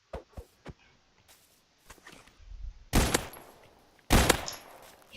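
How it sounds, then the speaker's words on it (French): Video game gunfire in a building shooter rings out as two loud, sharp bursts in the second half, preceded by scattered lighter clicks and thuds, with no talking over it. "J'ai encore entendu un bruit de fusillade."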